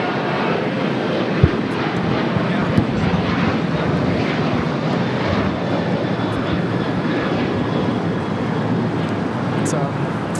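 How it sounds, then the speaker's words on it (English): A Boeing 787-9 Dreamliner arriving from Istanbul at LAX makes a steady, fairly loud engine roar that holds for the whole stretch, with a couple of sharp clicks and people chatting over it. "787-9 Dreamliner coming in from Istanbul is the next arrival."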